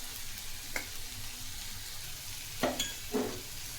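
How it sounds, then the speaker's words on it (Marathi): Black masala and chili powder frying in oil, a quiet continuous sizzle broken by a few sharp spoon scrapes against the pan, no one speaking. "त्याला छान तेलात फ्राय करायचं आहे."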